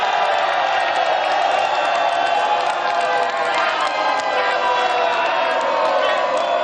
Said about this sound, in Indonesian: Saya ingin minta suara yang paling meriah dari para pendukung pasangan calon nomor 1 dan juga 2.